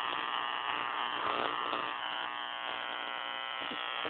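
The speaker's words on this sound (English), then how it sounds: "So there's my new Jacob's Ladder." A homemade Jacob's Ladder high-voltage spark gap gives off a continuous harsh electric buzz with crackle. It is steady, loud and close for the whole stretch.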